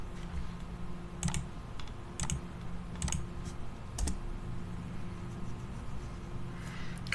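A computer keyboard is typed on in a few spaced, sharp key clicks, with small runs of taps between them. The clicks sound close and fairly quiet over a steady low room hum.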